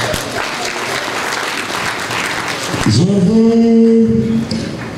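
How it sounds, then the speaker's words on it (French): Audience applause at a ceremony honoring a son, a loud dense wash of many hands clapping continuously, with a voice cutting in partway through over the ongoing clapping. "Si on peut applaudir pour mon cher fils."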